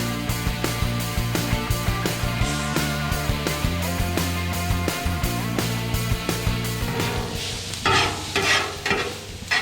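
Previously cooked onions stirred and scraped on a Blackstone griddle, a steady sizzle with rhythmic metallic spatula clatter throughout, close and fairly loud, with no talking.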